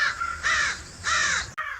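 Crows in a cartoon story caw in two long, harsh calls, close and fairly loud, followed by a short clipped caw after a sharp break.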